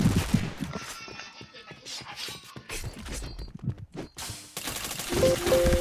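Rapid gunfire from the shooter video game Point Blank: dense bursts of close automatic shots and clattering weapon mechanics, with a brief pause before a heavier burst at the end and faint voices in places.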